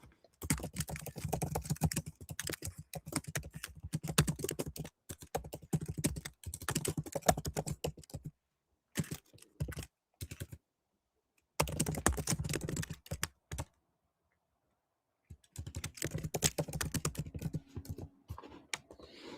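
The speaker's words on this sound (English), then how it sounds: "you're going to hear me typing a little bit fast" Rapid clattering keystrokes on a computer keyboard come in quick bursts separated by short silent pauses, close and fairly soft.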